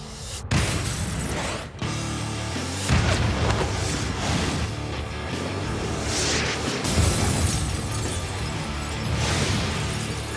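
A riot gun fired in a pawn shop setting: a sharp loud blast near the start, followed by a long, dense, noisy stretch of booms and rattling debris.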